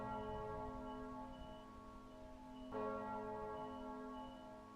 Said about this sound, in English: We can't keep ringing this bell.